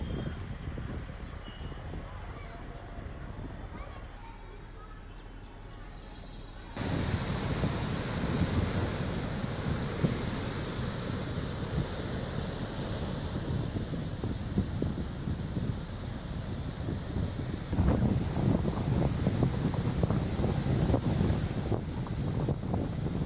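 Strong wind and high waves from Cyclone Ditwah roar continuously, with heavy gusts buffeting the microphone and a quieter lull early on before the surging noise returns louder.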